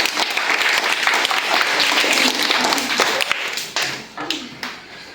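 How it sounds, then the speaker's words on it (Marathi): Primary school children at a village school quiz break into enthusiastic clapping, a dense, lively burst of applause from a small group that keeps up for several seconds before thinning out and tapering at the end. "विराटसाठी सगळ्यांनी टाळ्या"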